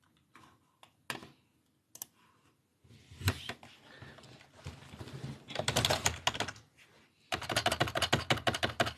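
Typing on a laptop keyboard, starting with a few scattered key clicks and building into dense, rapid bursts of close, fairly loud keystrokes, with no talking.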